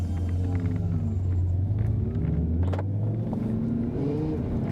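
A BMW M5 with a V10 engine, modified for racing, rumbles steadily and close by with low engine tones that rise and fall, alone without talk.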